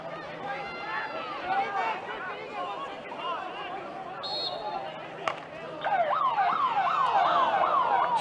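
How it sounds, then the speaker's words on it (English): At a men's Premier League field hockey grand final between Seacliff and Adelaide, a wailing siren rises and falls in a steady cycle near the end, sounding over crowd chatter and commentators talking. "but the siren had gone anyway"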